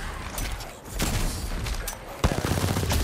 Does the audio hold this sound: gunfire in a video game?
yes